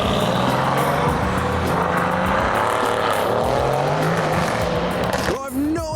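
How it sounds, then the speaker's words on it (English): Modified cars pulling out of the Spa racetrack at a car show, engines droning and revving loudly and steadily, with a sharp rising rev near the end and people talking amid the noise. "we've just arrived in time for a massive event to watch the cars leaving"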